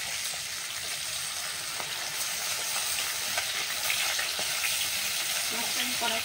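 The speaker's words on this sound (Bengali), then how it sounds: "মেখে রাখা মাছগুলো ভেজে নেব।" Marinated rohu pieces sizzling in hot oil, a dense, even crackle that holds steady throughout, with faint stirring knocks now and then.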